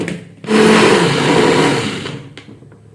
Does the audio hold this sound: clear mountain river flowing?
no